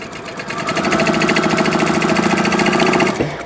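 A sewing machine stitches quilt block pieces in a fast, even run of close, loud mechanical clatter for about three seconds before stopping.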